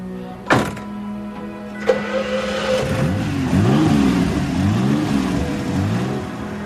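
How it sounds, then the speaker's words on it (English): A car with a mid-mounted Jaguar V12 engine starts with two sharp clunks and then settles into a loud, close engine note that rises and falls through several revving swells. "It has a mid-mounted Jaguar V12 engine"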